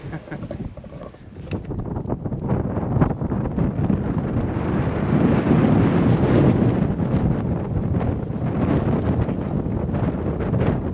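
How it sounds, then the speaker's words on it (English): Wind gusting across a coastal hiking trail, a loud rumbling buffet on the microphone that swells and holds steady, with no voices. "this wind's dried everything out quite nicely"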